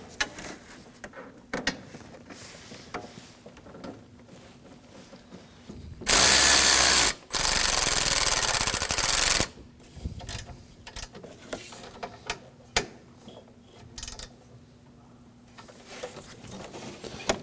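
Hand ratchet turning the mounting bolts of an AC condenser on a 2013-2015 Subaru XV Crosstrek, heard as a loud three-second burst of rapid clicking, then a brief pause and another burst, with scattered quiet clinks and handling noise before and after.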